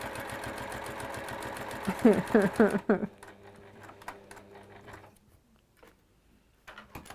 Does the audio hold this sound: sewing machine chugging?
yes